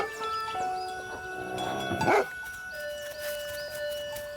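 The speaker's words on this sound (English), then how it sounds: "Their only companion is a dog to chase away the wolves that live in these mountains." A dog barks and yips in a mountain pasture among goats, with one loud close bark in the middle and bells and faint animal sounds around it.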